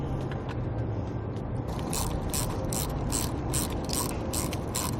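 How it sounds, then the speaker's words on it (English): Steady ratcheting and clicking as bolts are threaded back into a Kuat NV 2.0 hitch bike rack fitted with an access ramp, a rhythmic run of metallic clicks over a constant mechanical hum, close and fairly loud, with no talking. "just got to get those bolts threaded back in"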